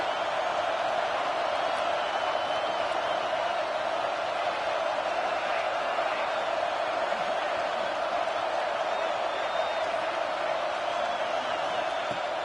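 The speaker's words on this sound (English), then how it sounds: "how nice is it to have the home crowd going absolutely bananas?" Home crowd in a Madden football video game roaring steadily and loudly throughout, a dense continuous wash of cheering and whooping with no pauses.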